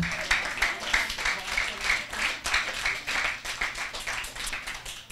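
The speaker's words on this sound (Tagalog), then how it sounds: "Bigyan natin malakas na palakpak si Lord." Members of a church congregation at a sermon clap together in a quick, regular rhythm, a moderately quiet, continuous patter of evenly spaced claps lasting several seconds with faint voices underneath.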